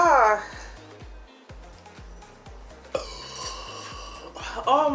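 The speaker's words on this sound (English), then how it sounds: "I had to burp." A burp after gulping soda, a deep rumbling belch mixed with breathy vocal sounds and strained exhalations from a nearby person.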